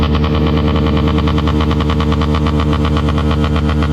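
A loud, throbbing motorcycle exhaust idles and revs close by, a steady rhythmic engine pulse filling the whole moment.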